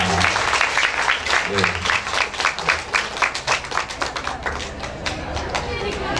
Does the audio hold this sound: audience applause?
yes